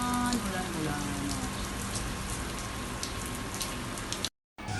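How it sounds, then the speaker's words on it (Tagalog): Heavy rain during a downpour in Doha, with water pouring in through a window, makes a dense, steady hiss and patter of running water that fills the space. The sound cuts out abruptly near the end. "This is the water coming from the window, going down to the reception, too dirty."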